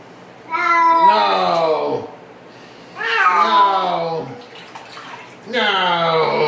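A cat yowls in long, loud, drawn-out meows during a bath, three separate cries with pauses between them, while water is poured over its head and splashes in the tub.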